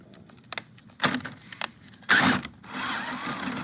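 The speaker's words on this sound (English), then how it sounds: "You're gonna use your 10mm socket." A 10mm socket wrench loosens a car battery terminal on a Chevy Colorado, producing close metallic clicks and ratcheting bursts, then a longer scraping rattle.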